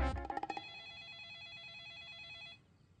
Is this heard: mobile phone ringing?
yes